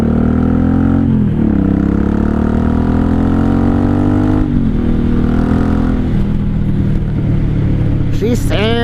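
A 1983 Honda Shadow VT750C 750 motorcycle engine runs close by with a loud, rich idle that rises and settles in small revs, a steady throbbing rumble throughout.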